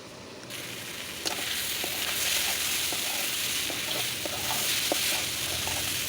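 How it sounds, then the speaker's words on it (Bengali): Spices and vegetables sizzle and fry steadily in a pan with a little water added, a continuous close hiss with scattered pops and faint stirring clicks throughout. "একটু একটু পানি অ্যাড করে আমি কষিয়ে নিচ্ছি"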